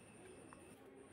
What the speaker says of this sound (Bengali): ওদিকে পাখিগুলো দেখেন ডাকাডাকি শুরু করছে।